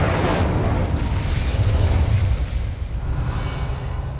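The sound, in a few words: Incendio fire spell in video game Hogwarts Legacy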